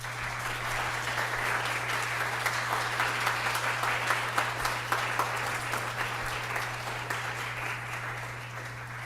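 An audience applauds at the close of a public astronomy lecture, giving steady, dense clapping across the whole stretch over a constant low electrical hum.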